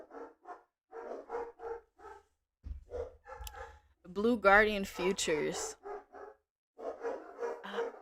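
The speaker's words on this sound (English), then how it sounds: "I can't even talk, guys, because these dogs are insane." Several dogs bark loudly and repeatedly in a burst of overlapping barks and yelps, close by, cutting across someone talking indoors before and after.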